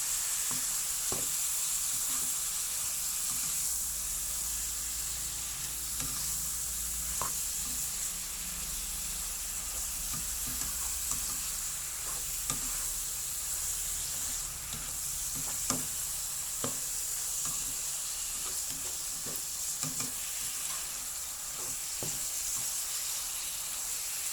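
Steady sizzling of bean sprouts being stir-fried with chicken blood in a pan, a continuous hiss broken by scattered clicks and scrapes of stirring, close and even throughout with no talking.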